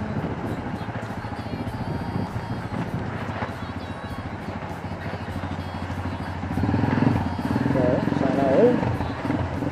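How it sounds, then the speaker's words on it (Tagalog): A big motorcycle passes on a city highway in Zamboanga City. Its engine swells louder near the end over steady road and wind noise. "Big bike."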